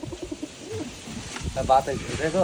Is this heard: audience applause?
no